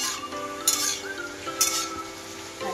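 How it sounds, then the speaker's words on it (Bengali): Mixed vegetables fry and are stirred in a pan in a home kitchen, a soft sizzle broken by a few sharp scrapes and clinks of the spatula, close by with no talking. "সবজি ভাজা চলছে"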